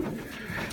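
Racing pigeons coo softly and steadily inside a loft, brief low murmuring calls close by with no talk over them.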